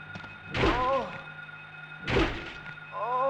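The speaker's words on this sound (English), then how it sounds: "Let's try to kill some of the nurses with melee weapons." Two heavy melee weapon blows land on nurses in Silent Hill, each a dull, close thunk followed by a short game sound, spaced about a second and a half apart over a low hum, with a voice speaking.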